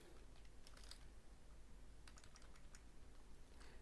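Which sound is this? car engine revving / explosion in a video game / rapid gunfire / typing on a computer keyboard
typing on a computer keyboard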